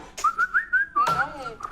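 Someone whistles a short tune nearby as an arrival signal, a few quick rising notes and then a sliding call, with speech mixed in.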